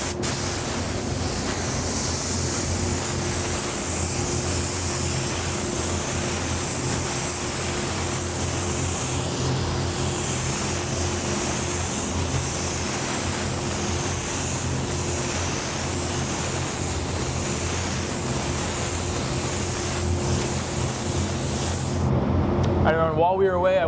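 A spray gun lays down a second coat of candy green paint with a steady, broad hiss that runs unbroken for about twenty-two seconds, then cuts off abruptly.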